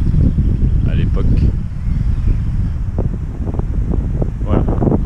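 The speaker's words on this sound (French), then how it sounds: "Voilà, vous entendez le vent." Wind rushes steadily across the microphone with low buffeting roar during an outdoor hike in bad weather, while a person speaks intermittently over it.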